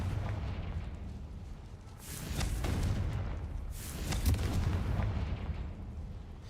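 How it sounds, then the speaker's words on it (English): A Confringo fire spell cast in the video game Hogwarts Legacy, two loud explosive bursts with crackling fiery whooshes, roughly a second apart. "Confringo."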